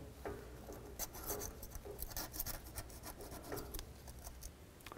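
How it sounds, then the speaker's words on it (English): A scraper or razor blade scratches old gasket material off the exhaust flange of a 2007–16 Chevy Traverse, giving faint, uneven rasping strokes close up. "clean any gasket material off up here. You can use a scraper or a razor blade or even some sandpaper."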